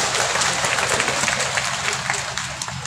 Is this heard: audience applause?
yes